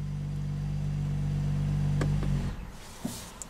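A 2019 BMW X5 M Package SUV being rebuilt after damage, its engine idling with a steady low hum that cuts off after about two and a half seconds, followed by a few faint clicks.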